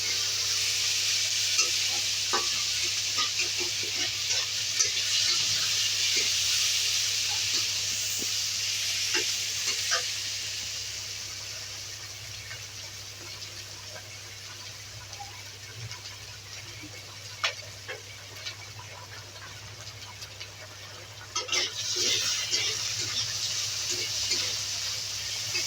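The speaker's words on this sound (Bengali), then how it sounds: "এবার পেঁয়াজগুলো লাল লাল করে দিয়ে নিই" Onions sizzle and fry steadily in hot oil for a tilapia and eggplant curry, a continuous close hiss with occasional spatters and stirring clicks, tapering slightly before picking up again near the end.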